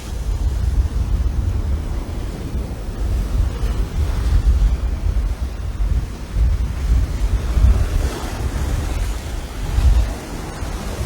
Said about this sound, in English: You're just going to wait for this one set wave to come through,